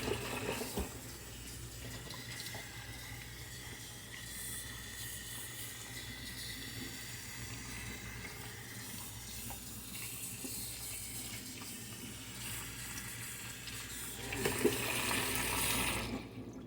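A kitchen sink tap runs water to rinse a large batch of tomatoes: a steady hiss of flowing water continues throughout, with a louder splash of handling near the end, and no talk.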